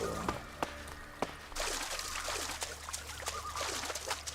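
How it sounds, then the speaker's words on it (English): A waterfall in the ELEX video game rushes as a steady broadband wash of falling water, with scattered clicks and brief game sounds over it, moderately loud and continuous, no talking. "Look at this waterfall, man."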